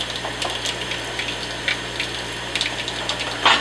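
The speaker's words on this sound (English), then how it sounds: "So I just flush these out to make sure there's no bleach residue." Water flushing through aquarium siphon tubes in a sink, a steady hiss of running water broken by short gurgling, splashy bursts as the tubing is rinsed.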